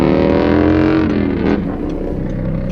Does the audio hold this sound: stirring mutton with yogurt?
no